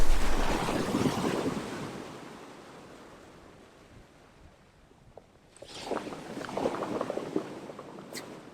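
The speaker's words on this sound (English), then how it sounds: "there's the crashing surf, there's drama" Ocean surf crashing around rocks on a wet, windy shoreline, a heavy roaring wash that fades into a lull before a second wave breaks and hisses, with wind buffeting nearby.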